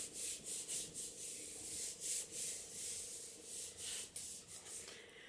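Paper being pressed and smoothed onto a greeting card to push out air bubbles: soft, close rubbing strokes in a quick uneven rhythm, quiet and with no voice.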